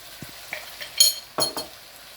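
Goat heart and liver seasoned with black pepper fry in a pan over high heat, giving a soft sizzle broken by a few sharp utensil clinks and scrapes as the pieces are stirred, close by.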